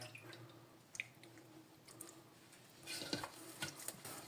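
Hands knead atta dough in a bowl after a sprinkle of water, making quiet, close, wet squelching and slapping sounds that grow busier toward the end.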